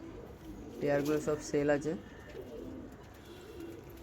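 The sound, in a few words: pigeons cooing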